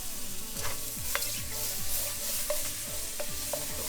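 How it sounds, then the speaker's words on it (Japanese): Mushrooms sauté in butter over high heat, crackling and sizzling in a steady close hiss while a utensil scrapes and taps the pan in a repeated rhythm. "今強火で炒めてます"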